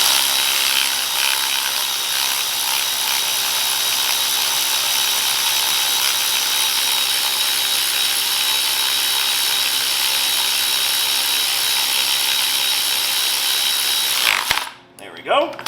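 A power tool runs steadily for about fourteen seconds, tightening a nylon lock nut on the rear shock of a 2013–2020 Ford Fusion, then cuts off abruptly with a brief clatter at the end.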